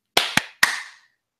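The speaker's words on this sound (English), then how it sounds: "Should we do a clap?" Podcast hosts in a quiet studio clap, producing three sharp, close hand claps in quick succession, each with a short ringing decay, with no talking.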